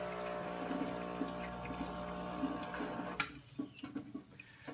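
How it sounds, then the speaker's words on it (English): La Spaziale espresso machine pushing water through its group head while being backflushed, a steady close hiss with pump hum that cuts off abruptly about two-thirds of the way through. "I'm just going to let some more water flow through this to clean it out."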